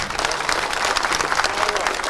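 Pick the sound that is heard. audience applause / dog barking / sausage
audience applause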